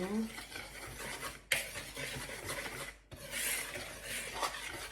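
A spoon stirring a sugar and margarine mixture in a bowl, a continuous close scraping and rubbing texture with a brief clink, under quiet talk.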